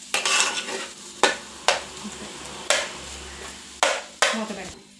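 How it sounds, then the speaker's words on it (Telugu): Chicken fried rice ingredients with coriander sizzle steadily in a pan while a spoon stirs and scrapes against it in sharp, repeated strokes, close up. "వేగేద్దాం. కాసేపు మగ్గనిద్దాం."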